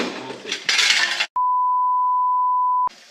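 A single steady electronic beep, a clear pure tone lasting about a second and a half, between bursts of background noise.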